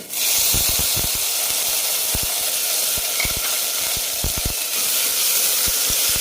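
Onions, tomato and four green chillies sautéing in a pan give a loud, continuous hiss with quick irregular clicks and taps from stirring, and no voices.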